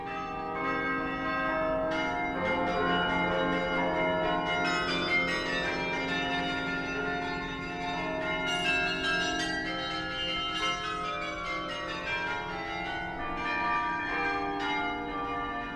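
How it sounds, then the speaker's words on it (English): The historic carillon of King João V at Mafra, Portugal rings out a continuous bell piece, with many overlapping bright tones sounding steadily and fairly loud throughout. "his love of King João V's unrivaled carillon"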